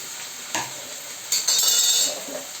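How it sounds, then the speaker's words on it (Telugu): Curry leaf sprigs and turmeric frying in hot oil for an egg and tomato masala curry, a steady soft sizzle that swells louder midway, with a brief stirring scrape near the start. "రెమ్మల్ని ఆయిల్లో వేసుకుని బాగా వేయించుకోవాలి"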